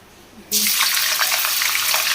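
Cauliflower dropped into hot ghee, a quiet pause giving way to a sudden, loud, sustained crackling sizzle that continues steadily close by.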